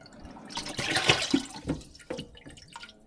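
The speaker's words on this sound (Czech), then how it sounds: "tam odsud pořád vytíká voda" Water leaks from a drain pipe in splashy irregular bursts and drips, close by and moderately loud, with brief pauses between gushes.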